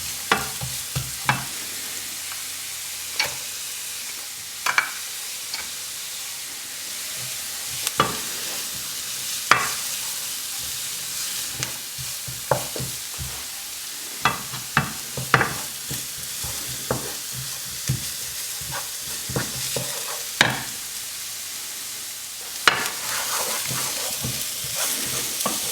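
Chopped onion, garlic and bay leaves frying in a pan, a steady soft sizzle broken by repeated clattering scrapes of a spoon stirring, close and clear with no talking.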